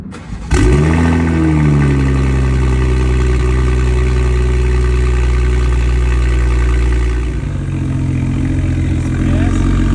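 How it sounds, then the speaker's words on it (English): A BMW M240i xDrive with a Valvetronic exhaust starts up with a sharp bark, then settles into a loud, deep, steady idle with a slight dip and rise in pitch near the end. "let's go hear that exhaust"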